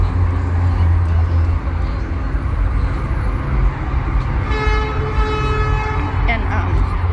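Car horns sounding in heavy downtown Chicago traffic on the way to the Lollapalooza festival, a sustained honk rising over a dense street rumble, with people talking throughout.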